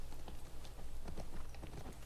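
Horse hooves clip-clop at a steady galloping rhythm in the video game The Last of Us Part 2, moderately close and fairly faint over a low background rumble.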